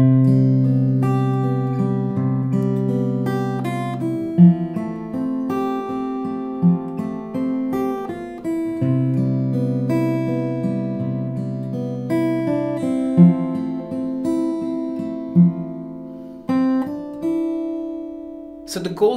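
A fingerpicked guitar plays a simple melody over slow romantic chords in a fingerstyle pattern, clear and close, with plucked notes ringing over sustained low bass chords throughout.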